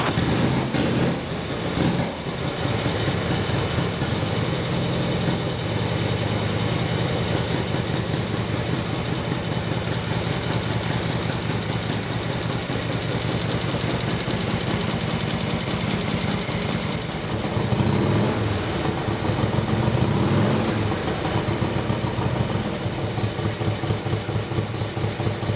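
A 1953 Harley-Davidson Panhead engine idles steadily and loudly up close, its lumpy low thumping rhythm continuing for the whole stretch without speech.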